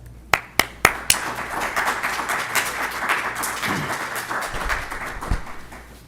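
A lecture audience welcomes a professor with applause: a few sharp early claps, then steady, moderately loud clapping from many hands that gradually thins out.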